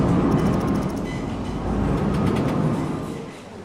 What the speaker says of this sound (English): They're super loud, those trams.